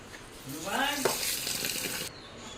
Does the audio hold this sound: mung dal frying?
yes